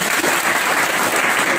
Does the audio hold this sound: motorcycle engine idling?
no